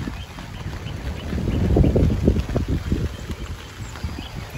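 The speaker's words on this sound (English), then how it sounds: "Whoa! It's a little windy." Wind gusting outdoors on a walk, a broad low rumble that swells toward the middle and buffets steadily throughout, with no voices.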